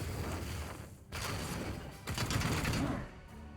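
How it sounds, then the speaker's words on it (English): Support gunfire in Warhammer 40k Chaos Gate: Daemonhunters comes as rapid bursts of shots in two or three dense volleys, separated by brief gaps, loud and close. "we get the additional backup from the support fire"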